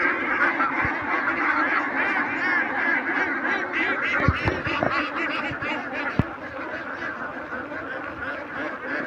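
A flock of ducks on a duck farm quacks continuously, a dense overlapping chorus of nasal calls at moderate distance, with a few sharp knocks and faint background voices.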